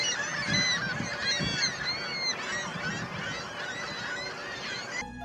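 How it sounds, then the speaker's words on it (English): A nesting colony of ring-billed gulls calls in a dense, overlapping chorus of loud honking cries, close and continuous with no talk. "wandering into a nesting colony of gulls is a surefire way to lose your hearing"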